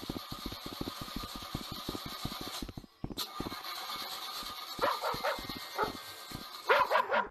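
A dog barks in the video game Rec Room, a quick rapid series of sharp barks followed by scattered yips and whimpers under a steady electronic background hum.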